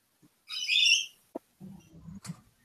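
A hawk's cry, a loud, harsh, high screech lasting about half a second, followed by a few softer calls and low rustling in an open desert setting.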